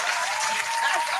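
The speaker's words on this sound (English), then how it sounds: "Can I get some damn claps, man?" A crowd claps steadily for a short burst, a dense even patter of many hands close by.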